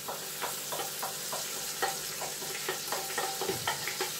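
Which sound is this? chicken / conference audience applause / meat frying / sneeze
meat frying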